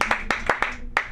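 A handful of sharp, separate hand claps ring out from a small comedy club audience, four or five quick claps in a brief burst.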